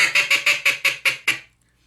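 A rapid series of eight raspy, descending quacks from a duck call imitating a hen blue-winged or green-winged teal, like chuckling laughter, loud and close, then silence.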